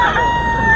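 A young Golden Boy stag rooster crowing at a gamefowl sale, one short, loud, close crow heard alone.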